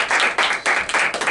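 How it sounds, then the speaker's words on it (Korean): After a seminar presentation on the economic effects of the 2030 climate targets, a small audience claps in a few uneven, close bursts, brief and fairly loud, with no talking over it. "박수 부탁드리겠습니다."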